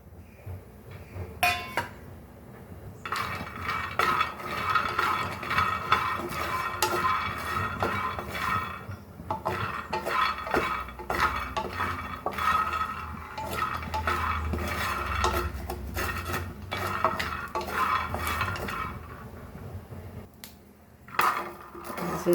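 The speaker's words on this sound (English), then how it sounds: "Roast peanuts." Peanuts roasting in a pan for a Goan green brinjal masala, stirred with a utensil that scrapes and clinks against the metal in irregular bursts, fairly quiet and close.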